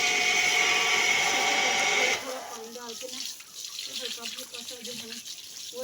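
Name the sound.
pouring a little water on the floor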